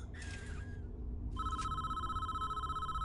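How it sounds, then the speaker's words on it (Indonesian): A telephone rings in the video game Prison Architect, with a short trilling burst, a pause, then a sustained electronic ring over a low game hum. "Gue dapat telepon, gue dapat telepon"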